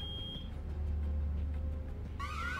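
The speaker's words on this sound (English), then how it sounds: "It's an alarm! Kid, stop the alarm! Make it stop!" Electronic alarm beeping in the video game Road 96, a steady tone under low rumble, ending in a rising warbling wail near the end.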